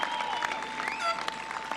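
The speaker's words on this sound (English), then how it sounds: "Give them a round of applause." Applause from a graduation audience honoring the class of 2024 at a high school ceremony, a steady, moderately distant wash of clapping with a faint crowd murmur underneath.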